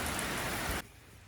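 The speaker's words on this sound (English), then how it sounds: "It's raining pretty hard outside." Heavy rain pours down outside, a dense steady roar for most of the moment that abruptly drops to a quieter patter near the end.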